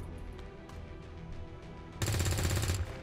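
Gunfire from the XCOM 2 game breaks out suddenly after a quiet ambient stretch, a loud rapid burst of shots lasting under a second before fading back.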